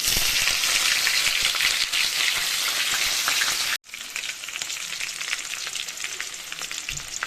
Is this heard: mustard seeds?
yes